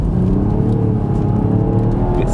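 A BMW M135i LCI pulls hard under acceleration, its engine a loud, close, steady rising drone with a smooth whirring tone and deep rumble, heard alone without talk.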